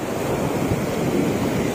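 Sea waves at a fishing spot, a continuous close wash of surf mixed with wind buffeting the microphone, steady and fairly loud with no talking.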